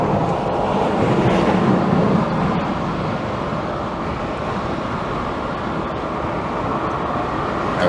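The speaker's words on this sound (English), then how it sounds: "Now it's just everyone else's tire noise, that's the problem" Steady road and tyre roar heard from inside a moving Renault Avantime, a constant broadband rumble at even loudness with no speech over it.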